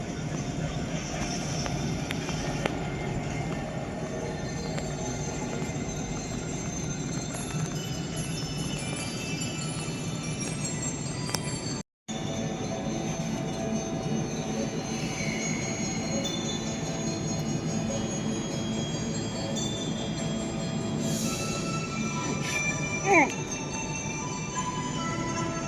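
Musical clock with a small train in the main hall of Taipei Station, chiming the six o'clock hour with a tune as the toy train runs along its track, a steady rumble and clatter beneath a noisy indoor crowd with people talking throughout.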